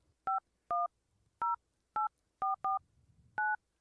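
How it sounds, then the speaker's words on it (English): Seven separate touch-tone telephone dialing beeps, short and evenly clipped, tapped out at an uneven pace with faint background murmur between them, clear and close. "let me dial them up"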